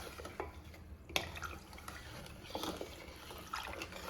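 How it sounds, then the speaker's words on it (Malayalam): Rice flour ice cream mixture stirred in a pot, a steady wet swishing and scraping with soft liquid sloshing throughout, close and moderately quiet. "ഇനി നമുക്ക് ഇതെല്ലാം കൂടെ ഒന്ന് നന്നായിട്ട് ഇളക്കാം."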